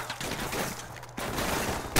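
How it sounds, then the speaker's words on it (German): Call of Duty Modern Warfare gunfire: a burst of rapid game shots crackling over a dense background of battle noise, ending in a sharp louder report. "Jetzt schieße ich den ab."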